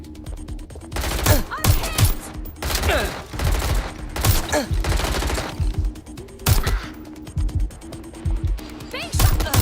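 Rapid gunfire in Watch Dogs: Legion, with repeated loud bursts of automatic shots, clattering weapon mechanisms and a steady underlying hum, close and dense across the whole stretch.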